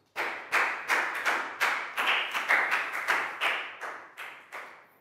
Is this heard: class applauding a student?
yes